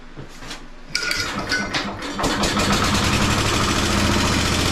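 Antique Briggs and Stratton generator engine sputters, then catches and settles into a steady, fairly quiet running rhythm with a light metallic rattle, close by.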